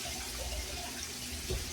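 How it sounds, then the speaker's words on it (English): Tap water runs steadily into a kitchen sink while hands are washed beneath it, a soft continuous splashing hiss at close range with a slight swell near the end. "I'm going to wash my hands real quick."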